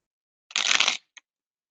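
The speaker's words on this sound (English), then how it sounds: "You're shuffling cards." Playing cards being shuffled, one short crisp riffle lasting about half a second followed by a single faint tap, close and isolated in silence.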